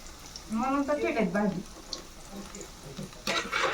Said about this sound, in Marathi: बघा आता कसं तळतंय एकदम लाल झाले